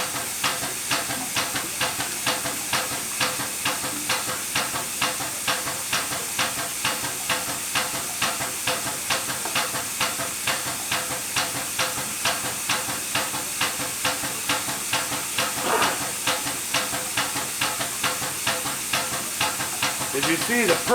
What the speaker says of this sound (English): As you see, the purge air is still on, which now it just turned off.